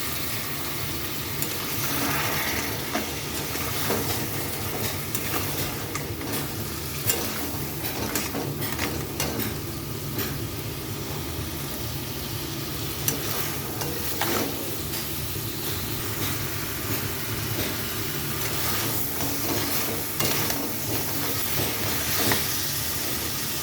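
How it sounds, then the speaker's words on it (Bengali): Spicy crab curry spice paste fries in a pan after a splash of water, giving a continuous close hiss and sizzle with faint stirring scrapes throughout, no talk. "এখানে একটু জল দিয়ে দিচ্ছি মশলাটা ভালো মতো কষানোর জন্য।"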